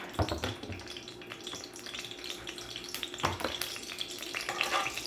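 Vermicelli frying in a spoonful or two of oil for Sa'idi-style rice, a steady close sizzle with scattered stirring scrapes and a couple of louder clatters.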